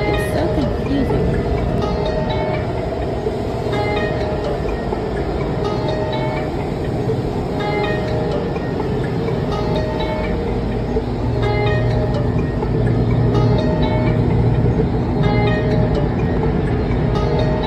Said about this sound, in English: We were in the tunnel for a while, rows of lights zooming past the train.